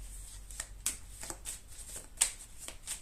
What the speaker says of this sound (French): Je vais tirer une carte sur ça.